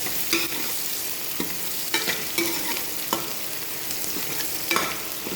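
Onions for a besan kadhi roast in a pan with a steady frying hiss, punctuated by regular scraping strokes and clinks of a spoon stirring, close-up and clear, no voices.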